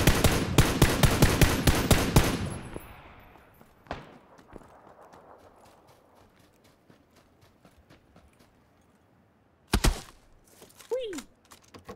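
A burst of rapid automatic gunfire from a multiplayer squad shooter game rattles loudly for about two seconds, followed by a lone shot and then another sharp distant report later on, with brief voice sounds near the end.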